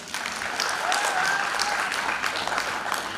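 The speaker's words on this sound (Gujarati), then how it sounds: "થોડી તાળી તો પાડો." A small crowd claps at a family sacred-thread ceremony, a dense burst of hand claps sustained for about three seconds, close and fairly loud.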